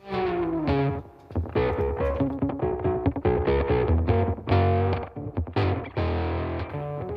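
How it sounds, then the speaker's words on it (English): A heavily distorted electric guitar plays a riff of chords and notes, loud and continuous with effects coloring the tone. "What we're listening to is, well, the sound of an electric guitar"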